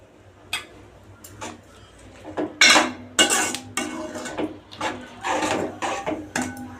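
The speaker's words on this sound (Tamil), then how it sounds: "உப்பு சேர்த்திட்டு கலந்து விட்டுக்கலாம்." A metal spoon stirs salt into a pot of palak keerai and cowpea dal, knocking and scraping against the vessel in irregular, close clinks and clatters, with no talking.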